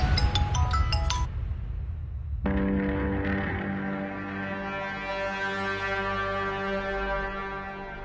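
A phone ringing and going unanswered: a short tone sequence, then a steady, loud electronic ring tone sustained for several seconds.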